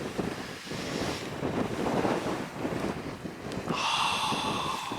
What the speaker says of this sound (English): I think the wind's supposed to die down a little bit